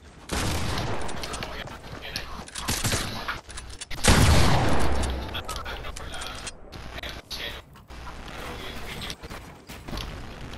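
Sniper rifle gunfire in Fortnite, with several close, loud cracking shots spread across the stretch, one heavy blast standing out, amid ongoing game noise and occasional brief voices.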